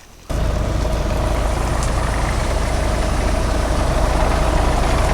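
A small engine on a high-pressure agricultural sprayer, used for spraying herbicide, starts abruptly and then runs at a steady, loud idle with a constant low drone.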